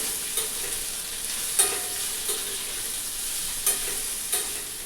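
Grated coconut, peanuts and green chili sautéing in a pan over low heat, a steady soft sizzle with a few sharp scraping strokes of a spatula at irregular intervals.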